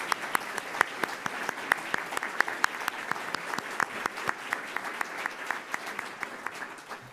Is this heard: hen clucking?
no